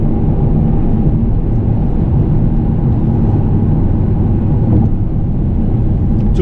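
A Mini Cooper S E Countryman ALL4 plug-in hybrid on Pirelli Cinturato tires drives along with a steady low cabin rumble of road and tire noise, constant and fairly loud with no talking.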